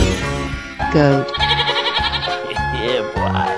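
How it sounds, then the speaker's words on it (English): A goat bleats within a children's animal cartoon, its wavering cries rising over a steady musical backing while people talk and exclaim around it. "goat."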